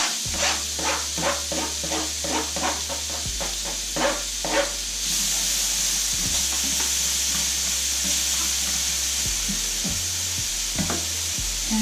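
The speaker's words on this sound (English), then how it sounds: "So now on the same pan we can throw in our onions." Onions hit a hot pan that has just seared pork tenderloin and sizzle loudly and steadily, with bursts of stirring and scraping early on, close up and with no voices.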